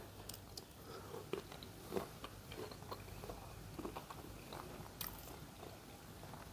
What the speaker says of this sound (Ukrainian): а я буду тихенько смакувати